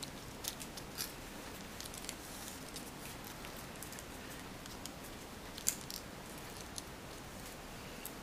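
Paper being folded for an origami bunny, heard as soft crinkles and light creasing taps over a steady background hiss, close and faint.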